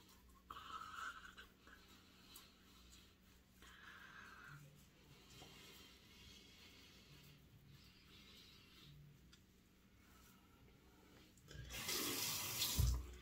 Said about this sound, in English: Give it a little bit of water here.